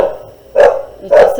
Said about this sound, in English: there goes all my doggies